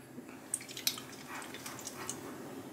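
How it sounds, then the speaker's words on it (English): Water sloshing inside an ID-Cooling Frostflow+ 280 all-in-one liquid cooler, 280 mm radiator, as the unit is shaken: faint, irregular little splashes and drips, a few sharper ticks, quiet and close, with no talking. "you can hear the water noise when you shake it"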